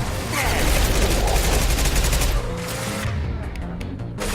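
Heavy sustained gunfire in Mass Effect 2, a loud rapid rattle of automatic shots with rumbling booms that thins out after a few seconds into scattered distant shots.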